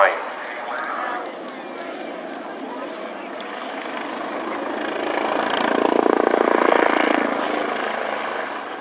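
An AgustaWestland A109 helicopter flies a display at an RAF Cosford airshow, its engine and rotor drone swelling as it comes closer and then easing off, with a commentator talking over the top.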